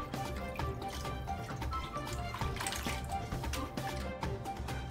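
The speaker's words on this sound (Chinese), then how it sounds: "洗好的面水倒到一块儿。" Starchy wash water from hand-washed wheat dough being poured together into one container while making Shaanxi liangpi, a steady liquid pour and drip that runs continuously and fairly close over a busy background.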